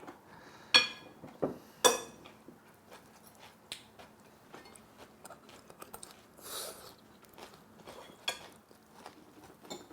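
People eating a home-cooked meal at a table, with sharp clinks of cutlery and dishes, soft chewing and scattered small taps, close and quiet with no talk.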